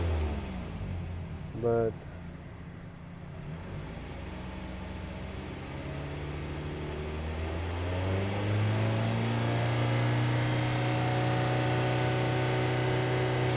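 A 2008 Toyota RAV4 with a 2.4 liter engine and a lean-running fault idles, then its note rises steadily as the throttle is opened and held high, a close, continuous mechanical hum with a brief spoken word early on.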